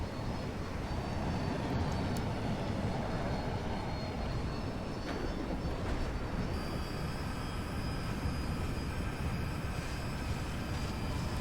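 Roar of a fighter jet flying low over the ground in the video game Battlefield 2042, a loud, steady engine drone that fills the whole stretch with no break and no talk.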